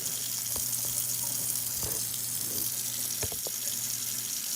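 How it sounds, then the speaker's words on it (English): Green onions rinsed under a sink faucet, a steady close stream of running water with a few brief clinks and knocks from handling. "I'm gonna rinse my green onions."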